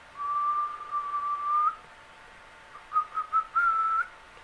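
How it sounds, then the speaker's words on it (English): A person whistles a single sustained high tone, then after a pause gives a few short stuttering whistles and another held note, close and clear against a quiet background. "I suppose I can whistle for you whilst this is going on."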